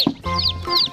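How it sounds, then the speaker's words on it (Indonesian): A brightly coloured rainbow chicken clucking up close, a short burst of a couple of clucks with chirpy overtones, briefly and alone. "Wih, ayam rainbow lagi"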